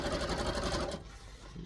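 A sewing machine stitches elastic onto wrestling tights in a fast, even whirring run for about a second before cutting off, leaving a quiet tail.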